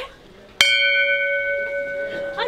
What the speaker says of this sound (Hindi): घंटी बजाते हुए बढ़ते हैं आगे